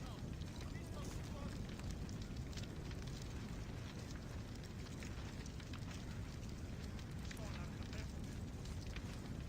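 Fire in the video game Assassin's Creed gives a steady, dense roar with a rushing, crackling texture that holds at an even level throughout.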